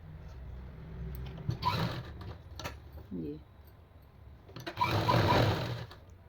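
A sewing machine stitches golden gota lace along fabric edges in two short, close bursts, with quiet handling and a voice in between.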